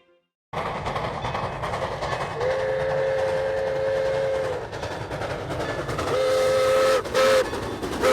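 A steam train runs with a steady, loud rumble of rolling wagons and track noise, while a sustained whistle blows twice, once long in the middle and again briefly near the end.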